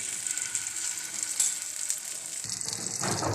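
Egg-dipped chicken kebab frying in a little oil in a frying pan over medium heat, a steady close sizzle with a brighter hissing burst near the end, no talking.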